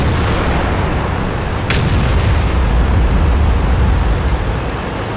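Type 5 Heavy tank cannon in World of Tanks fires a single sharp blast over a continuous heavy engine and track rumble, loud and close throughout.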